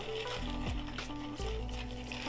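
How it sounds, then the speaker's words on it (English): Ice clinks and swirls steadily in a mixing glass as a bar spoon stirs a Manhattan cocktail, a close, continuous rattling with no talk. "That's how you stir a cocktail without bruising it."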